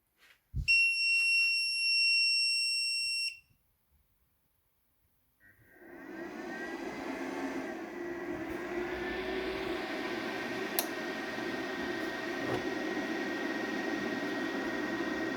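A 3 kW hybrid inverter with charger switches on: a loud, steady electronic beep sounds for a few seconds, then near silence, then its cooling fan spins up into a constant whirring hum.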